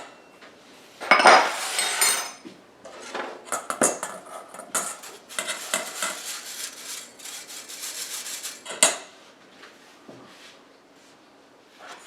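Cocoa powder sifted with baking powder for a sugar-free, gluten-free Christmas brownie, heard as close metallic rubbing and rasping of a sieve and utensil against a bowl, in uneven bursts with short pauses and quieter stretches near the end.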